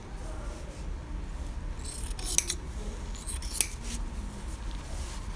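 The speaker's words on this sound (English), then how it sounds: "take one layer of our seam allowance and trim it down by half" Scissors trim one layer of a fabric seam allowance while sewing a flat felled seam, giving soft steady snipping under low room noise, with two sharper cuts standing out.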